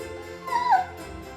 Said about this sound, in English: My little dog here is whining like crazy